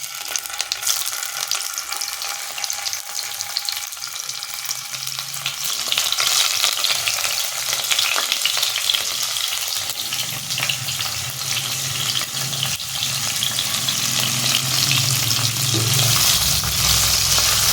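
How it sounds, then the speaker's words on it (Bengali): Paneer pieces fry in hot white oil in a wok, giving a continuous close bubbling sizzle that grows louder partway through and carries on steadily, with occasional stirring scrapes. "এবার পনিরগুলোকে ভেজে নেব। তেল গরম হয়ে গেছে"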